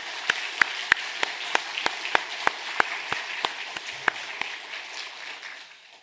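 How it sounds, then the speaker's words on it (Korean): Church congregation applauding for the risen Lord during an Easter Sunday worship service at Mapo Central Church: a dense wash of many hands with sharp, evenly spaced claps cutting through, steady and fairly close, then thinning and fading out toward the end. "부활하신 주님께 영광으로 박수를 올리겠습니다."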